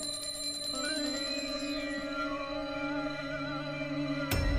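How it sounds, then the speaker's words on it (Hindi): A telephone rings steadily with layered electronic tones, fairly loud and continuous, ending in a sudden sharp burst near the end. "देखो किसका फोन है।"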